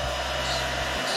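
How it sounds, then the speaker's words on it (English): A blow dryer drying paint on a crawfish crankbait runs as a steady, loud airy whir with a low motor hum that cuts out just before the end. "Let's hit it with the blow dryer real quick."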